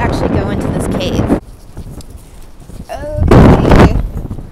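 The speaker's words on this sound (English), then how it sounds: "It's super windy in here." Strong gusts of wind buffet the microphone inside a cave, loud rumbling bursts that surge, drop off and return, with a voice heard briefly between the gusts.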